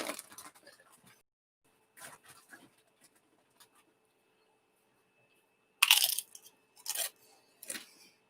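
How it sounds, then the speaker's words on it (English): Crisp crunching bites of a Donkey brand tortilla chip come in short, close bursts separated by quiet pauses, with one especially loud crunch near the end. "That's a crunchy chip."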